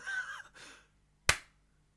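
A soft, muffled hand clap lands once after a few words of speech fade out, a short dull slap that is close and fairly quiet, then silence.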